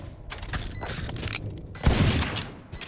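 Gunfire and booming impacts in the video game Valorant during a ranked match, a burst of rapid shots and a heavy thump standing out over game ambience.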